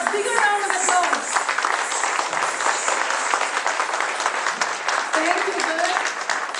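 Audience applause at an Independence Day music celebration, a sustained round of crowd clapping with a voice speaking over it at times.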